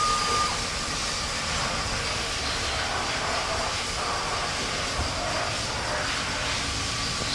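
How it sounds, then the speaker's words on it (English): A crankshaft balancing machine in a performance engine shop spins a crankshaft up to speed, giving a steady, loud mechanical whir and rushing roar that holds without pause and without any voices. "now we're ready to spin it up"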